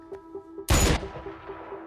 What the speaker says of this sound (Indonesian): Drasa bosan dan menembakkan pistolnya